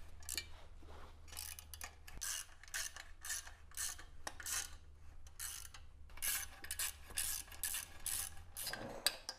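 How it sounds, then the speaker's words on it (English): Ratchet tightening the clutch bolts on an Austin-Healey during clutch reassembly in a home garage, a steady run of close, quick mechanical clicks in short bursts with brief pauses, no talking. "Tightening each one just a couple turns to tension this evenly so I don't distort anything."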